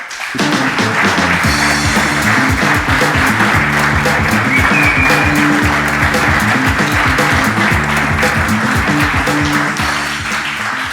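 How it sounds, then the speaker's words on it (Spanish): An audience applauds two guests, a naturalist and an astronomer, as they are welcomed: loud, sustained clapping lasting about ten seconds over a rhythmic musical backing that starts and stops with it. "Vamos a pedir un fuerte aplauso para David González y José Ángel Miguel."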